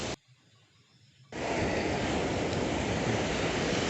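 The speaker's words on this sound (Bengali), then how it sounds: "সমুদ্রের ঢেউগুলো পারে আশ্রে করছে" Ocean waves break on Kuakata beach in Bangladesh, a sudden wash of broad rushing surf that swells in and holds loud and steady, with wind buffeting the microphone and no talking.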